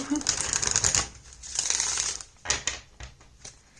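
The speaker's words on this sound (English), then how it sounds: "I will be shuffling the decks, all the decks, on camera." Several oracle card decks are shuffled up close in a few crisp, rustling bursts of riffling cards separated by short pauses.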